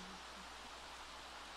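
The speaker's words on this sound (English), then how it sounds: "It's raining in The Sims" Steady soft rain falling in The Sims video game, an even low hiss of drops that continues unbroken from start to finish, quiet and with no voices over it.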